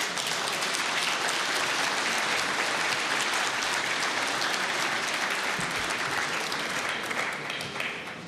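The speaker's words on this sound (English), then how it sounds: "So with your applause, please welcome Secretary General Jens Stoltenberg." Dense, sustained applause from a conference audience at the Munich Security Conference fills the hall as the NATO Secretary General is welcomed. It is steady and full, then tapers slightly at the end.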